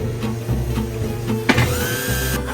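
Power drill boring holes through wood side panels on a narrowboat, a close motor whine with a pulsing rhythm, a sharp knock partway through, then the drill spins up again.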